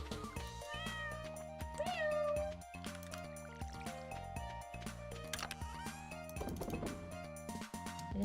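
Cat meowing in a cozy Stardew Valley farming game, a few short meows mixed into busy game music and sound effects, with no talk.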